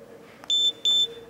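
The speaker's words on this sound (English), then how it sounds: "you'll hear those two beeps and the camera will go right off." A handheld Tachyon OPS HD action camera switching off with two short, high electronic beeps in quick succession, clear and close over a quiet background hum.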